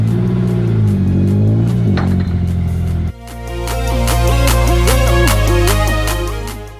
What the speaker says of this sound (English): So I gotta pull the car around.